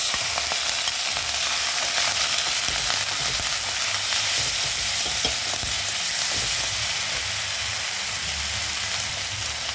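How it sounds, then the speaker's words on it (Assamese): Spice paste for a raw-banana kofta curry sizzles and fries steadily in a hot pan with oil, cumin, dried chillies and onion, a dense continuous crackle with occasional stirring scrapes, close and unbroken throughout with no talk. "এতিয়া মই মছলাখিনি ভালকৈ ফ্ৰাই কৰি"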